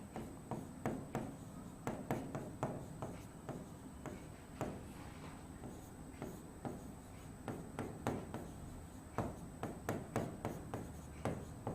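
Pen or marker writing out a chemical reaction on a board or paper, a quiet run of quick tapping strokes and scratches in uneven bursts, close and faint.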